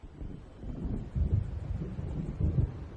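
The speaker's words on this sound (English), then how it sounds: "It seems there's a storm coming." A thunderstorm in the video game Alan Wake, heard as low, rolling rumbles of thunder that swell in a few heavy bursts over a steady windy roar, with no talking.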